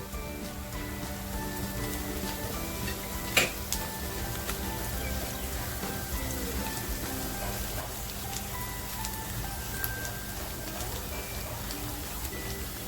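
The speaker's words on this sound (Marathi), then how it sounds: "ती लसूण टेचून घेतली आहे ती आता कांद्याबरोबर फ्राय करते" Steady sizzling and crackling of crushed garlic and onion frying in a hot pan, continuous and fairly loud throughout, with a sharp clink partway through.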